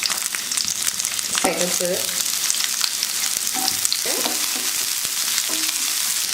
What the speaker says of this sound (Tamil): எண்ணெய் ஊற்றி எண்ணெய் காஞ்சதுமே குடமிளகாய் சேர்த்துக்கலாம்